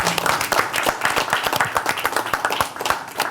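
A television studio audience claps steadily for the show's director, with dense, continuous applause throughout and no voices.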